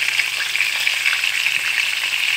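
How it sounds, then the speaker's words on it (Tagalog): Chicken fries in oil without any flour coating, giving a loud, steady sizzle and crackle that carries on evenly throughout, with no voices over it. "Normal lang na prito na walang walang harina."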